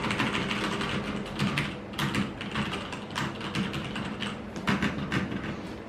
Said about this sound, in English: And the keyboard itself, but this thing actually rattles a lot